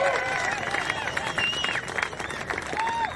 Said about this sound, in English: this is going to be a big round of applause for our hometown hero